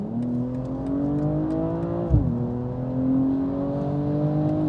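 A BMW M240i 3.0 engine revs steadily upward in Sport Plus mode, pitch climbing as it accelerates hard from 50 to 120, briefly dipping at a gear shift before pulling on, loud and close.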